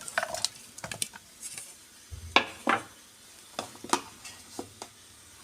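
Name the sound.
vegetables being put into a baking tray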